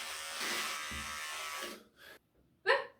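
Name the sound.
electric shaver shaving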